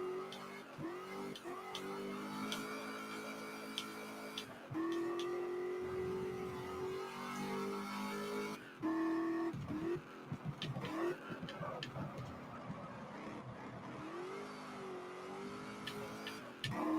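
A race car in the video game GT Legends laps a circuit, engine revving up and down through repeated gear changes and braking, loud and close throughout.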